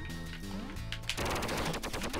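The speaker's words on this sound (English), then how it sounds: "Oh, this is an inaccurate gun all the time." Rapid bursts of automatic gunfire from the Duck Game video game in battle mode, loud and continuous over layered electronic game sounds, with no talk.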